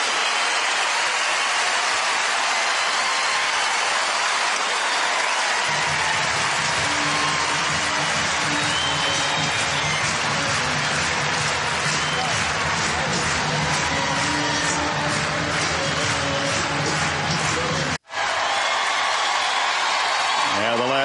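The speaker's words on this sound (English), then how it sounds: "The last 2 minutes, the crowd on its feet celebrating." Crowd at the 2006 US Open third-round tennis match between Agassi and Becker, a dense, sustained roar of cheering and applause that swells steadily and carries on with a brief dropout near the end.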